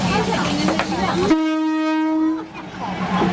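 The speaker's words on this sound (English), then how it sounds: "When a train approaches, merchants quickly clear their stalls to make way." A loud train horn blares as a train approaches through a trackside market, one long sustained blast over the rumble of rail traffic and background chatter.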